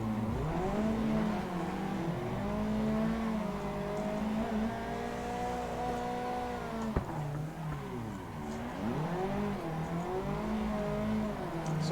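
A car drifts around the Minami course in the Assetto Corsa driving sim, engine note swinging up and down as throttle is rolled on and off, with a continuous loud roar and tyre hiss and a single sharp knock midway.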